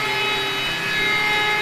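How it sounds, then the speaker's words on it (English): Continuous power sanding on a boat hull during restoration, a steady broadband rasp with faint tonal whine, close and uninterrupted with no talk. "So you got a day of sanding, hence it's that sanding."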